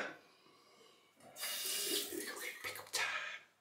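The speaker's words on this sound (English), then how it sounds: "Bit of water on the brush." Tap water runs briefly onto a 24mm shaving brush at a sink, a steady close splashing stream lasting about two seconds with a short break before it resumes.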